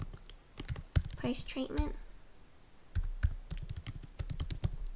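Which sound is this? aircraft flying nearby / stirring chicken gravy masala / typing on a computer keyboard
typing on a computer keyboard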